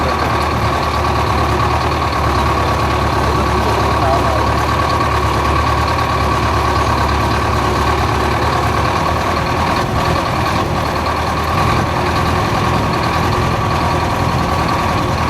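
A tractor engine runs steadily and loudly throughout, a continuous low mechanical drone with a constant hum, close by and with no speech over it.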